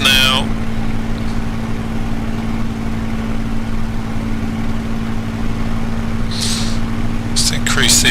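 A Spitfire engine in Microsoft Flight Simulator drones steadily and loudly throughout, a constant low hum with a strong fixed tone, while brief voice-like bursts appear near the end.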